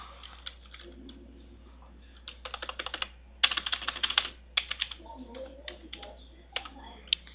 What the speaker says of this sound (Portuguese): No caso você digita isso aqui ó